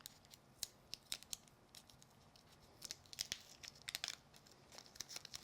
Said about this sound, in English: take my tape off carefully.